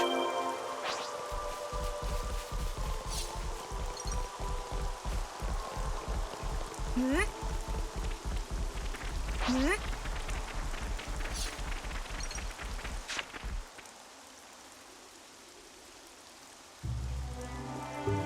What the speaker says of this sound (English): Rain. I hope it won't slow us down too much.